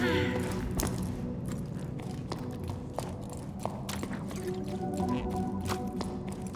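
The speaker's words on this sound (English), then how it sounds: "It sounds very wet, even though I know it can't be because there's no water." Wet, dripping and squelching sounds echo through the caves of the video game Jusant, with scattered drips and soft thuds over a steady ambient bed and game music.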